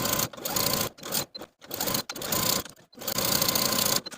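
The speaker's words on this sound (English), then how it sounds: "I'm going to take it to my sewing machine and top stitch all around those outer edges" Sewing machine top stitching around the outer edges of a bias-cut jacket: loud, fast, steady whirring runs broken by short pauses, close up, with no talking.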